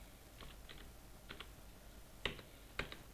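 Fingers tap a computer keyboard in a quiet room: a few soft, sparse keystrokes, with two slightly sharper clicks near the end.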